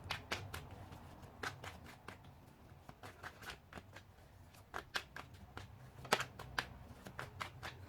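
Tarot cards shuffled by hand during a reading, a run of crisp riffling flicks and soft slaps in an uneven rhythm, close and fairly quiet over a low background murmur.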